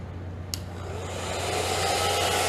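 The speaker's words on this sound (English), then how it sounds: "Well, I'm gonna hair dry this little section here that I put too much water on." A hair dryer switches on with a click and runs with a steady, loud whooshing roar that builds slightly, drying a watercolor painting close by, with no talk.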